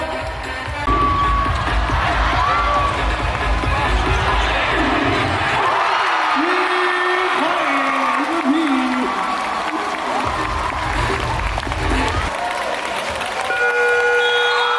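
Crowd at a KBL Cup basketball game in Incheon claps and cheers continuously, loud and roomy, with sustained arena noise, whistle-like tones and an announcer's voice over the top.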